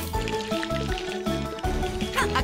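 Fresh water pours into a cup for a lentil taco recipe, a steady filling sound with a rising tone, heard alongside continuous upbeat music.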